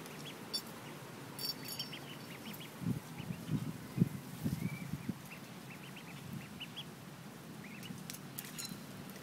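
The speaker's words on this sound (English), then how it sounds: "Look at the duckies." Baby ducks quacking and peeping in soft, scattered bursts near a Great Dane and an English Mastiff, fairly faint over steady background noise, with a cluster of calls in the middle.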